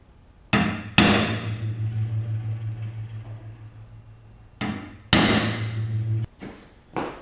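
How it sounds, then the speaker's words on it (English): Hammer blows on a steel center punch in a garage workshop, marking a fuel cell for a Trail Buggy XJ build: a few sharp, loud metallic strikes in two pairs with ringing decay between, plus a faint later tap. "so we've got this center punch, now we need to drill a hole"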